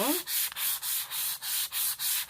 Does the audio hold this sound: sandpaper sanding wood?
yes